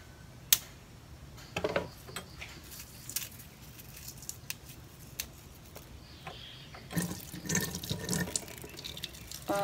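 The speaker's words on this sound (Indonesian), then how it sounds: "Ini coba akan saya cuci dulu ya, biji anggreknya." Orchid seeds are washed under running water from a tap, with soft splashing and trickling, intermittent louder gushes and small drips, fairly faint and close.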